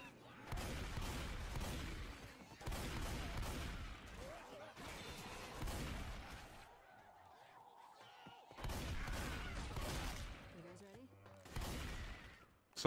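Gunfire in the zombie shooter Left 4 Dead, dense bursts of shots in repeated volleys broken by short pauses, loud and close, with players talking over it.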